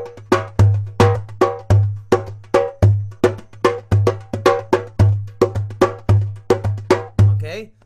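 A hand drum plays an Israeli Mizrahi groove, deep booming bass strokes alternating with sharp slaps in a steady driving pattern, close and loud with no talking.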